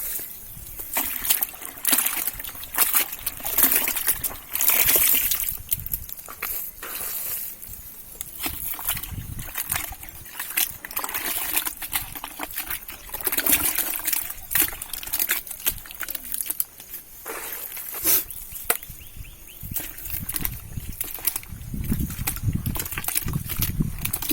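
Cow dung, about ten kilograms, is stirred into water for jeevamrut, giving continuous sloshing, squelching and splashing, close and steady throughout with no talk.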